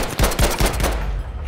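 A quick burst of about five rifle shots in Battlefield V, loud and evenly spaced, then a short decaying tail.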